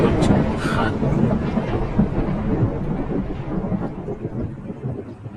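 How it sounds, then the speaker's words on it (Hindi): Thunder clap from a lightning strike over a boat on stormy waves, a heavy rolling rumble that starts loud and gradually fades alongside rain noise. "फिर एक जोरदार बिजली कड़की"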